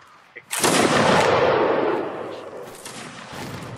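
Musket gunfire in Mount & Blade: Warband Napoleonic Wars, a loud close shot bursting into a long rolling roar of smoky echo that slowly fades over a few seconds.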